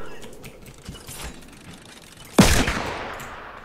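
Gunfire in Fortnite Battle Royale, with a sudden loud crack of a sniper shot around the middle, after which a short burst of shots rings out over faint background game noise.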